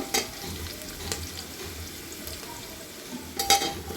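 Soaked rice frying in a pan for Kashmiri polao, a low continuous sizzle broken by occasional spoon scrapes and clinks against the pan, with a sharper clatter near the end.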